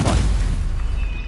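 A Stupefy spell fired in Hogwarts Legacy, a single booming magical impact that bursts loudly at the start and then rings out into a fading rumble with a thin high tone trailing behind.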